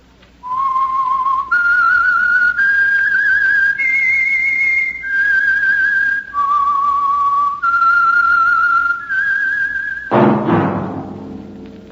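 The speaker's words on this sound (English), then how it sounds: "That whistle." A person whistles a slow tune of clear, loud, sustained notes stepping up and down, close and alone, ending with a dull thump.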